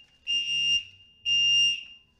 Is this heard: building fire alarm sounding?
yes